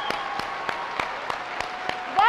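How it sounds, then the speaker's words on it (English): A school-choice event audience clapping in a sparse, regular rhythm of single distinct hand claps at a steady pace, fairly close and moderate in loudness. "Let's give that hand clap to school choice."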